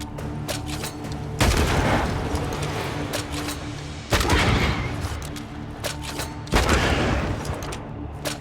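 Gunshots in Banishers: Ghosts of New Eden, three loud booming blasts spaced a couple of seconds apart, each with a long rumbling decay over a dense background.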